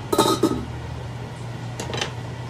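Metal lid lifted and set back on a cooking pot of braising Filipino pork estofado, giving a few close clanks and scrapes early on, then a softer second clatter, over a steady low stove hum.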